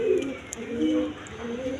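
Pigeons coo in low, throaty rolling phrases, repeated several times close by, with faint background noise and no talking.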